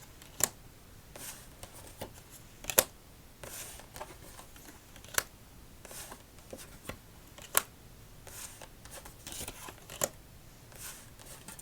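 Playing cards being shuffled and handled for an ASMR solitaire game, a series of soft crisp riffles and snaps spaced every second or two over a quiet background, close and fairly faint, with no talking.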